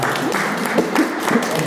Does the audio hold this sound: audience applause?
yes